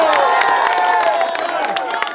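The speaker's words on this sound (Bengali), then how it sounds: "সবাই একটু কিন্তু জোরে হাততালি দিতে হবে" A crowd at an outdoor trophy ceremony for a sports final claps and cheers loudly, with dense continuous applause and shouts throughout.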